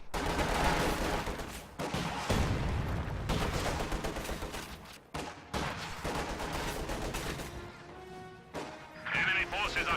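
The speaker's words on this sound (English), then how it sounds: "We are taking fire!" Gunfire and explosions crackle and boom in a World War II strategy video game, a dense barrage of loud, overlapping bursts with brief gaps. Game voices sound among the shots.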